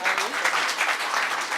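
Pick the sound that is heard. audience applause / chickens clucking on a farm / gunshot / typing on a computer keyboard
audience applause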